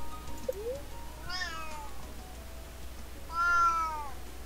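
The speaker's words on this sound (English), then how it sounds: "And my cat is sitting here talking to me." A pet cat meows close by, first a short chirp and then two drawn-out, rising meows spaced a couple of seconds apart in a quiet indoor room.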